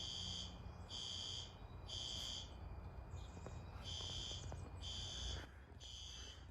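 A building fire alarm sounds during a system test, a faint, distant electronic buzzer tone repeating in regular on-off pulses about every second over a low background hum.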